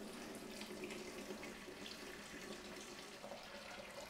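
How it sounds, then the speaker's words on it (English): Tap water runs steadily from a sink faucet into a tray for cyanotype printing, a continuous soft, even rush heard close and alone with no talk. "And this is gonna be water out of the tap."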